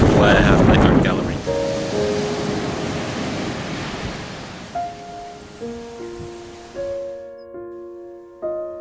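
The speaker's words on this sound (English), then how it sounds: "I am at the beach called Sabuisha, one of the most picturesque locations on the ocean." Ocean waves breaking on Sabuisha beach, a loud rushing surf that fades over several seconds, followed by soft sustained musical tones entering as the wave noise dies away.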